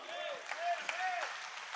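A church congregation claps for the Lord during a spiritual warfare service. The applause is short and fairly faint, with sustained tones like voices or music ringing over it.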